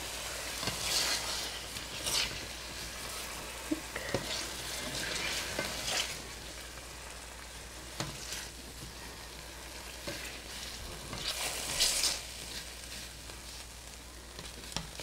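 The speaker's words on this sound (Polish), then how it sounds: "po tej polędwiczce będziemy przesmażali tą cebulkę" Onion frying in fat left in the pan after pork tenderloin, a steady hissing sizzle stirred now and then, with soft scraping and a few clinks of utensils throughout.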